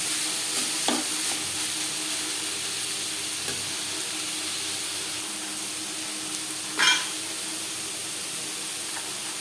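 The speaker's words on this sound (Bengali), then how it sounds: "ক্যাপসিকাম গাজর ও চিকেনের সাথে বেশ ভালো করে মিক্স করে দেবো" Capsicum, carrot and chicken stir-fried together in a pan for chicken fried rice, giving a continuous low sizzle with occasional spatula scrapes and clicks, close up and without voices.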